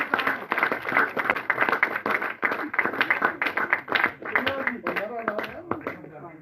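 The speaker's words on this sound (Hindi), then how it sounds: "तालियों से" Crowd at a Bharatiya Janata Party political rally claps in dense, uneven bursts throughout, with voices and chanting mixed in over the applause.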